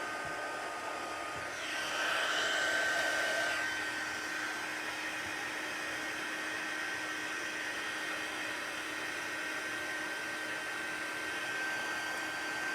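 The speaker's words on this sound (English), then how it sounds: "now I'm going to heat emboss. So if it's too loud, just turn it down a bit." A heat embossing tool blows hot air in a steady, loud whoosh that swells briefly near the start and then holds an even, unbroken roar to the end, with no one talking.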